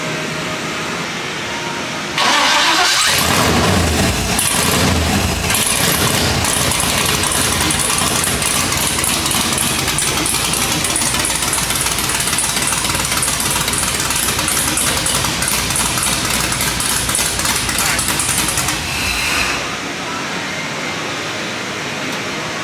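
An engine cranks and catches in a shop, then settles into a loud, steady idle with a constant rumble and whine that runs for most of the stretch before dropping away near the end.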